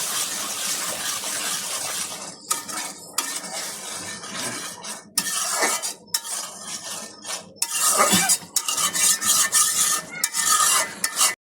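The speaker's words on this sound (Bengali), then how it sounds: "শুটকিগুলোকে আমরা একসাথে কষিয়ে দেবো মশলার সাথে" Dried fish being stir-fried with spices in a pan, with a spoon scraping and stirring in steady, irregular strokes over a close, continuous sizzle, and occasional metallic clinks of the utensil against the pan.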